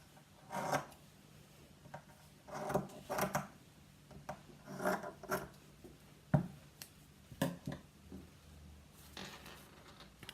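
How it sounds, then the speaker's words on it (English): Scissors snip through strips of fabric being trimmed to length for a dream catcher, a series of short, close cutting bursts spaced irregularly with quiet gaps between them. "just trim them at the bottom to the length that I want them to be"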